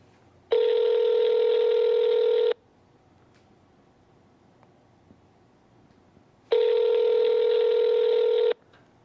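A phone on speakerphone gives two long, steady ringback tones several seconds apart, clear and loud, with near silence between them.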